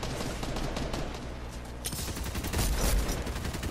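Rapid gunfire rattles through a Fortnite zero build match, a continuous crackling stream of shots that grows louder and denser partway through, heard over game ambience with no speech.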